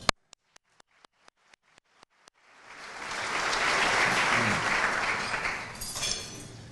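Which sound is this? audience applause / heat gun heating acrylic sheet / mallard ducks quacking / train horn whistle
audience applause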